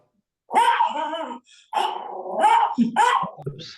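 A dog barks at close range in a short burst of loud, throaty barks with a brief gap partway through.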